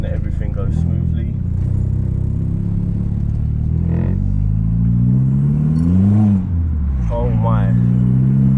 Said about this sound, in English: the way you can hear the turbo through the back of that